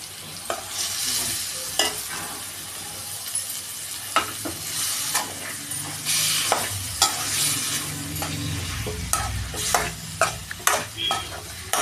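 Chicken stirred with curry leaves in frying masala: a loud, continuous sizzle broken by repeated sharp scrapes and knocks of a spoon against the pan, close up and alone.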